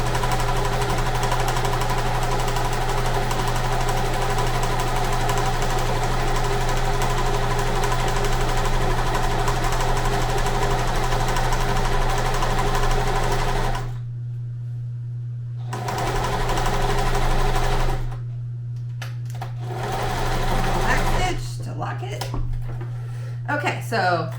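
A sewing machine stitches hems for a homemade market checkout station, a loud, steady motor whir running continuously up close, then stopping briefly and restarting in shorter runs as a voice talks.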